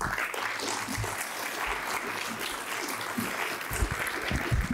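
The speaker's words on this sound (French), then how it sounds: "j'aimerais qu'on applaudisse de nouveau" An audience at a public meeting in Lille applauds steadily, a dense continuous clapping that holds at an even, moderate level throughout and is not very close.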